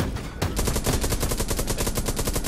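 A machine gun in the World War II shooter Hell Let Loose fires one loud, rapid, sustained burst starting half a second in and running without a break to the end, with no talk.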